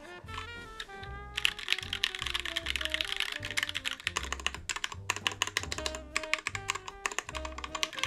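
Typing on a tray-mount mechanical keyboard with Gateron Yellow switches: rapid, close clacky keystrokes in irregular bursts, alone over faint background music.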